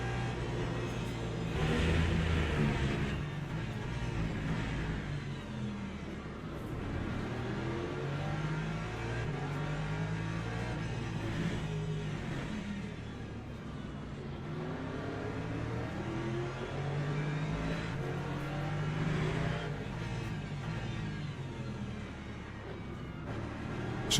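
Race car engines at Circuit of the Americas in the Le Mans Ultimate sim game, hypercar class including an AMG, drone steadily and loudly throughout with rising and falling revs as cars run in close traffic, no talk over them.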